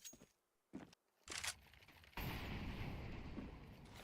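A grenade explodes in a Counter-Strike-style competitive shooter, a loud sudden burst followed by a sustained noisy rumble after earlier short gunfire-like cracks.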